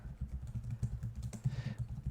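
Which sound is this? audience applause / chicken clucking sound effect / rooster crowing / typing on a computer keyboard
typing on a computer keyboard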